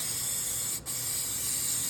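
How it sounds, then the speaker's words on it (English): An aerosol spray can hisses in a garage during a tune-up, a loud close steady spray broken by one brief pause before continuing. "Quick little spray down."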